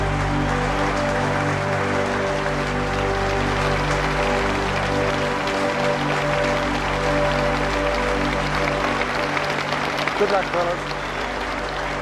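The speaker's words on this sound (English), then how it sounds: "And the applause from the huge crowd as the Australian opening pair, Woodfull and Ponsford, make their way down to the gate." A huge cricket crowd at a 1930s Test match applauds steadily as the Australian openers walk out, a dense continuous roar of clapping under a voice.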